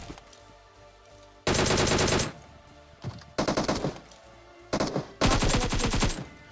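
Automatic weapon fire in BGMI (Battlegrounds Mobile India) during a Pochinki fight: three loud, sustained bursts of rapid shots, each roughly a second long and separated by short gaps, with quieter ambient game sound between them.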